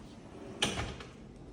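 A push-to-open pantry door in a modern European kitchen installation releases with a single soft click and a brief muffled thump, followed by the faint glide of the door swinging open in a quiet room.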